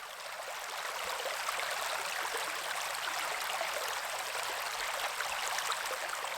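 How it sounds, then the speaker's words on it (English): A river in Paria Canyon gurgles and burbles in a steady, soft bright stream, continuous and even from a moderate distance, with no voices. "sometimes the gurgling of the river sounded like people's voices"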